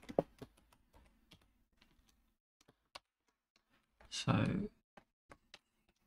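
Bursts of typing on a computer keyboard, sparse key clicks in an irregular rhythm with a short dense flurry near the end, close and quiet with some faint talk.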